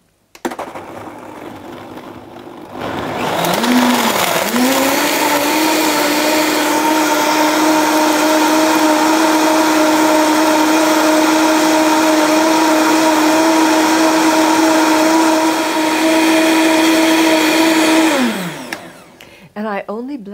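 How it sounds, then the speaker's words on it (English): A countertop blender whirs loudly and steadily for about fifteen seconds, blending a green drink, with a quiet start and a sudden stop at the end. "Okay, then I'm going to turn on my blender."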